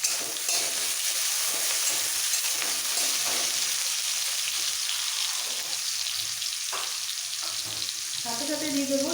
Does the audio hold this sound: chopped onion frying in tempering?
yes